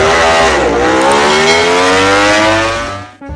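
A racing motorcycle engine revs hard, loud and close, its pitch rising steadily in a sustained whine before dropping off abruptly at the end.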